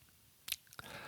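Faint, wet mouth smacks and clicks from a voice recording: two or three quick, soft lip and tongue ticks in near-silence, close to the microphone.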